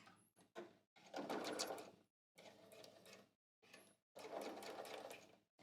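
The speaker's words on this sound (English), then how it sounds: "I usually sew down and back" Home sewing machine stitching a pant hem with elastic casing, running down and then reversing back in several bursts of steady whirring separated by short pauses, close and fairly quiet, with no talk.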